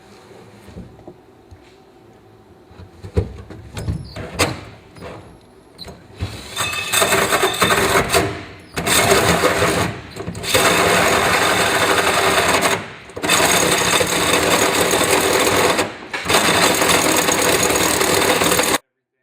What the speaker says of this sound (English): Now we're going to go ahead and start cutting a hole through the bed.